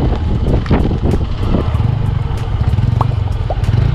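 Hero XPulse motorcycle on motocross tyres riding a sticky muddy road, a loud close engine drone with rattling clatter and scraping from mud packed in the tyres throughout.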